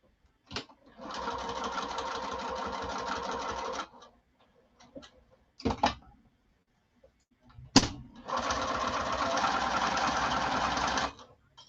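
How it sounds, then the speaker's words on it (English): A sewing machine stitches fabric at a 1/8 inch seam allowance in two steady runs of rapid mechanical whirring, each about three seconds, separated by a pause with a few clicks and handling knocks. "We're going to stitch it in at 1/8 inch seam allowance."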